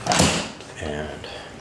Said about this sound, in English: And open this door.